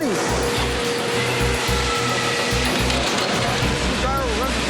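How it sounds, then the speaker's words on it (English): Hoist machinery lifting heavy barrels into dryers at a Chiquita facility, a loud steady mechanical drone with a repeating rhythmic clunking pulse throughout, near and continuous. "This is the hoist we're going to be using to lift up the big, heavy barrels to put them into the dryers."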